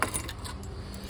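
Hudson car keys jangling in a hand, a quick bright metallic rattle of several small clinks, close and clear with no talking.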